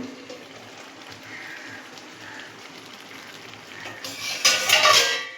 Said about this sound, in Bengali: কিছুক্ষণ 1 মিনিট পর আমরা ঢাকনাটা তুলে দেখে নেব।